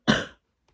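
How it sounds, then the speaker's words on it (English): A single short, sharp cough, loud and close, dying away within a fraction of a second, followed by a near silence with only a faint trace of a small sound. "Totally a cough attack."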